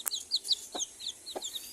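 A mother hen clucks close by in short, soft bursts, with a few chirps and clucks spaced across a couple of seconds and no voices.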